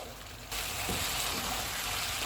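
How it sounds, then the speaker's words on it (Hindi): Mutton masala with tomatoes, green chillies, spices and cashew powder frying in a karahi gives a steady close sizzle after a sudden start, broadband hiss continuing without voices. "इनको 3 से 4 मिनट तक भूनेंगे।"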